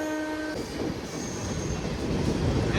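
The CSMT Howrah Mail train passes close by as a loud, continuous rumble of wheels and carriages, with a brief horn-like tone at the start and no speech.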